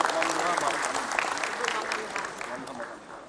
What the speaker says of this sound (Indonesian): Tepuk tangan dulu untuk Gubernur Jambi kita.